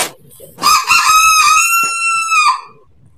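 A cartoon bird gives a single loud crowing call, like a rooster, in a children's animated cartoon. The call is bright and close and holds for about two seconds before breaking off.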